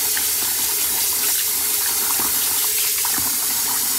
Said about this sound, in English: Now it's time to wash the rice.